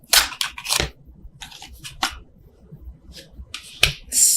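Tarot cards shuffled overhand: a series of crisp, irregular riffling snaps and soft card slaps, close up, in quick bursts with pauses between.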